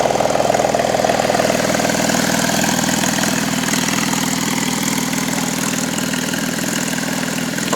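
A 2015 Porsche 911 GT3 RS engine idles with a steady, even rumble and a fine mechanical flutter, loud and close throughout with no talk.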